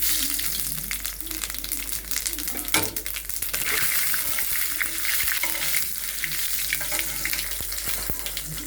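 Cumin and five-spice seeds fry in hot oil in a wok, the first tempering for a chicken curry with mixed vegetables and potatoes. A loud, steady sizzle runs throughout, with faint clicks of stirring and no talking.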